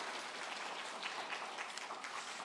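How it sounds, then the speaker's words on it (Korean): A church congregation at a harvest thanksgiving service applauds in a faint, continuous patter of many hands, evenly spread and somewhat distant. "박수로 축복하겠습니다."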